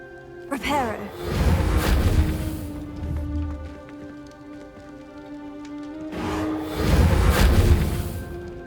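Casting the Reparo repair spell in the video game Hogwarts Legacy brings a rising, chirping magical shimmer followed by a loud rushing swell that fades and then surges again near the end, all over steady game ambience.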